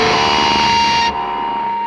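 Sustained, loud guitar feedback howls through a heavily cranked amp simulation, a steady piercing tone over harsh distorted noise that abruptly thins partway through.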